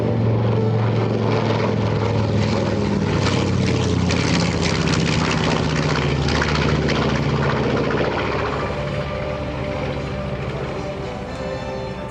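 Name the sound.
B-25 Mitchell bomber radial engines during air show flyby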